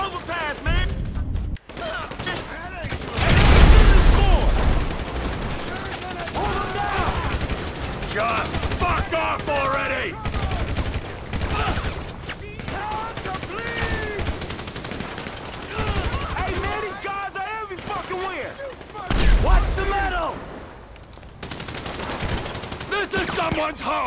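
Bursts of gunfire in Grand Theft Auto V during a big heist shootout on an overpass, loud and sustained with heavier volleys, mixed under frequent shouted talk.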